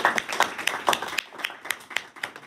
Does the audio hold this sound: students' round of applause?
yes